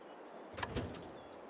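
A tractor hood opens in Farming Simulator 22, a short mechanical clunk with a few quick clicks and a latch thump, close and distinct over faint background hum.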